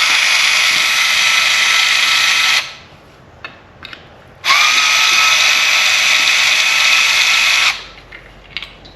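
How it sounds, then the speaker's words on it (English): Power screwdriver removes tiny screws from a YakHobby plate on an Old Town Predator kayak, two loud sustained whirring bursts with small clicks between them. "make sure you have the proper bit for your screwdriver, because they're tiny screws"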